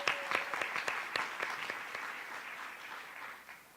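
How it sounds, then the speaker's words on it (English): A meeting audience applauds a school principal with steady clapping that starts crisp and sharp and then thins and fades toward the end, with no talking over it. "Let's give her a round of applause for that."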